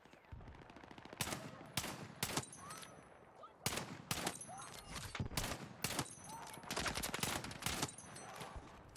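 SVK 8.6 rifle fire in Battlefield 6 sounds as a series of loud, sharp, cracking shots in irregular clusters, some spaced apart and others in quick succession, over faint background game noise.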